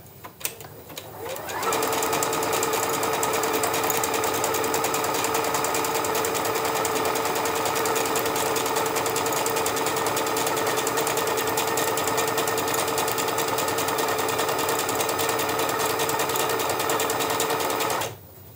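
A sewing machine stitches a fabric bag appliqué with black thread, running steadily and loudly at an even rapid pace for about sixteen seconds before stopping.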